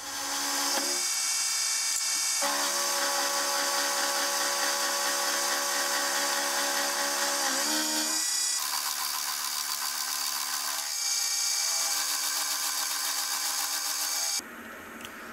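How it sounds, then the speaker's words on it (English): A milling machine cuts a piece of mild steel down to size, a loud steady mechanical whine with layered tones that runs almost nonstop, shifting pitch a few times before stopping near the end. "So I'll get this piece of mild steel in the mill, and I'll get it cut down to size."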